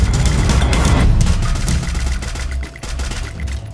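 Rapid bursts of gunfire from the Free Fire battle-royale video game crackle loudly in close, overlapping volleys, with a few sharper isolated shots toward the end.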